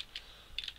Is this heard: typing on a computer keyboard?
yes